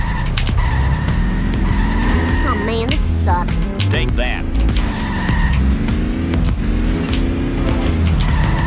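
Cars skid and ram into each other in The Simpsons Hit & Run video game, with loud, continuous engine roar, tire squeal and crashing impacts all the way through, while a player talks over the game.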